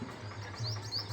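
Small birds of several kinds, yellow and black among them, chirp faintly in a tree with brief high tweets over a low background hum.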